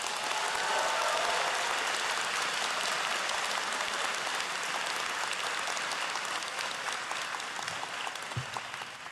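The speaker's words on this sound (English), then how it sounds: "Let's give them a round of applause." An audience at a medical school white coat ceremony for new osteopathic students gives a long round of applause, many hands clapping in a dense, even wash heard from a distance, fading slightly toward the end.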